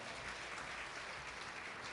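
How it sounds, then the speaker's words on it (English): Audience applause at a breakfast event welcoming a Phantom of the Opera lead, a dense, even patter of clapping that stays steady for two seconds, fairly faint and heard alone. "Big round of applause."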